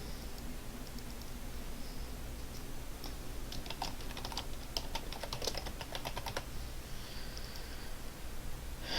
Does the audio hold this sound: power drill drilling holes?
no